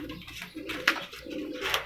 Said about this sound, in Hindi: ये जी ये है जी चिड़ी कबूतरी